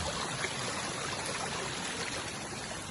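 A mountain river at Balumbong in the Philippines, ringed by trees, flows in a steady, even rush of water that stays constant throughout, with no voices.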